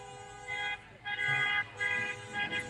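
Car horns honk in repeated long toots from passing vehicles at an evening rolling car show on a town street, loud and close over engine rumble and crowd noise.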